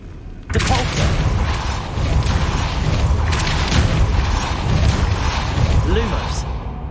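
A Depulso spell cast in Hogwarts Legacy on PS5 lands as a loud, sustained booming blast with a sharp onset, rumbling on continuously over game ambience.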